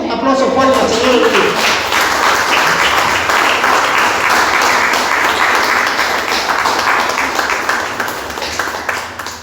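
A church congregation claps loudly and continuously for several seconds, dense applause that gradually tapers off toward the end.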